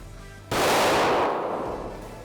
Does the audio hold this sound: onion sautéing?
no